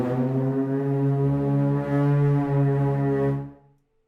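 Low Tibetan horn sample from MNTRA Instruments blows one long, deep, buzzy sustained drone with rich harmonics, swelling slightly midway before fading out near the end, heard alone.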